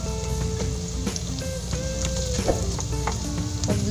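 Garlic, onion and ginger sauté in a hot pan for a Filipino fish sarciado, a steady close sizzle with scattered spatula scrapes and clicks throughout, no voices.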